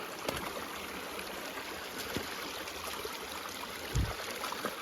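Mountain creek water flowing steadily at a trail crossing in Moosehorn Valley, a continuous broadband rush heard close by with a few brief footstep-like knocks, no talking.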